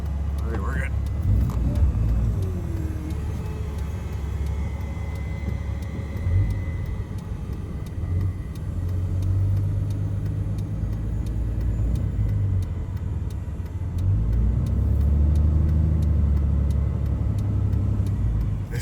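Steady road traffic rumbles behind a Case 9240 combine travelling down a road, a continuous low engine and tire drone with a passing car swelling louder near the end; a voice talks intermittently over it.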